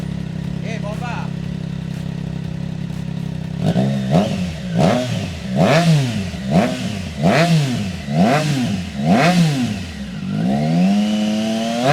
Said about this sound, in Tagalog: excited na ako ng mga time na yan para i-sound check yung bago nating tambucho